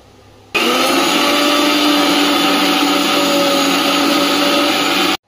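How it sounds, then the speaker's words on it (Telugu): A kitchen mixer grinder grinds mustard and fenugreek seeds, starting abruptly after a quiet moment into a loud, steady whirring roar that runs without pause and cuts off at the end. "ఆవాలు మెంతులు తీసుకొని మిక్సీ పట్టేస్తున్నా."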